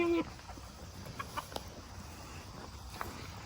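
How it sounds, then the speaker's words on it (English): Farm chickens cluck softly in a short burst of scattered calls, faint and fairly close over quiet outdoor background. "Chickens."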